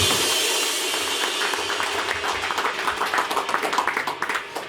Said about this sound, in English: So big round of applause for Nick for saving the day.